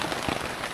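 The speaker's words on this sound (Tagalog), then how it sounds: "Maulan! Ulan na kainan." Steady rain falls at a campsite, a dense, even patter with no voices, filling the whole brief moment.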